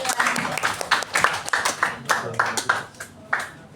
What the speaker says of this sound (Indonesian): Ya kalau ada kasih tepuk tangan dulu dong buat kelompok badan